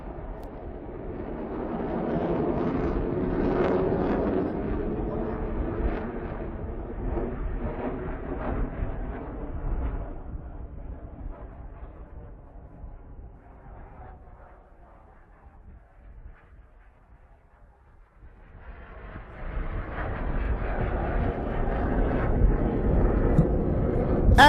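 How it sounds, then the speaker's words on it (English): MiG-29 fighter jets pass over a naval show at sea, a loud broad jet roar that swells, fades to a low rumble midway, then builds again toward the end with no talk over it. "we have just witnessed the MiGs demonstrate raw thrust and acceleration, a true guardian of the fleet"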